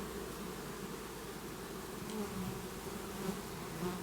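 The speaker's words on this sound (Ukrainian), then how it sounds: "А рій величезний." A huge honey bee swarm settled on an apple tree, a steady dense buzzing that fills the whole stretch, close and constant with no voices.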